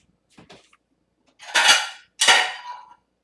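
A small bowl handled on a hard surface while gathering rose petals, giving two close, bright clattering knocks a half-second apart after a softer early rustle.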